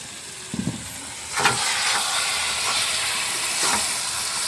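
Steam hissing from a pot of cabbage curry as the lid is lifted, a broad airy hiss following a couple of light knocks of the lid, moderately loud and sustained.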